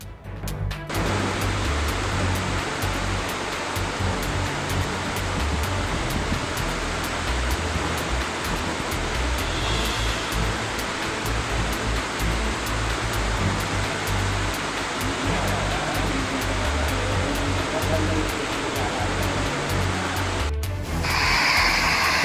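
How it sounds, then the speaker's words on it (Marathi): The flooded Tolai river near Mahad rushes as a continuous loud roar of water, steady and dense for the whole stretch, with a brief dip and crackle near the end. "हे बघा, तोळई नदीला भरपूर पाणी आलेलं आहे."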